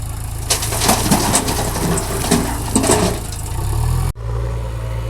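A low tractor engine rumbles steadily throughout in a farm field, with scattered bird chirps over it, and the sound cuts off abruptly near the end.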